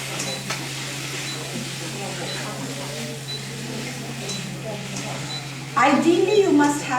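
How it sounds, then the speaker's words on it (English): Chicken breast flash-frying over high heat, stirred and tossed with two spatulas: a continuous sizzle with scraping strokes, a steady hum underneath and a louder burst of clatter near the end. "It's flash frying, quick cooking because breast of chicken"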